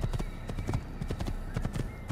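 Horse hooves galloping in Assassin's Creed, a fast steady clip-clop rhythm of hoofbeats, loud and continuous under faint game ambience.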